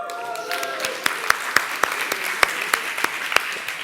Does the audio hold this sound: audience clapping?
yes